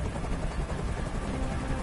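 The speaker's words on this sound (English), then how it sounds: "Tell that helicopter to get out of here." A helicopter hovers in the video game Detroit: Become Human, its dense, continuous rotor roar steady and loud throughout, with no speech over it.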